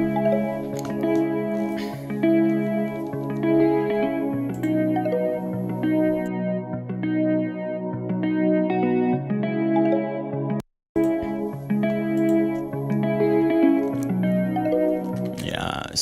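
A melodic afrobeat instrument made in FL Studio, likely kalimba-style plucks with reverb and the low end cut away, plays a repeating sequence of bright, ringing notes. It is steady and close, with one short gap near the end.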